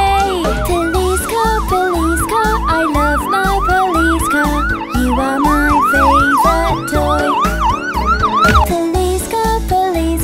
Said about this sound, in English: When the siren makes a sound, my police car always saves the day.